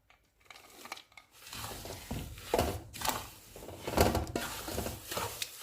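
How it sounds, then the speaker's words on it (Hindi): Coconut stirred into roasting panjiri in a pan, with intermittent scraping and rustling strokes rising and falling in soft, irregular bursts. "अब इसमें हम नारियल डाल देंगे और इसको मिक्स कर लेंगे।"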